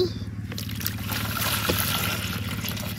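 Water poured from a vessel onto freshly picked sponge gourd leaves for fritters, a steady close trickle running the full length over a low continuous hum, with no talking.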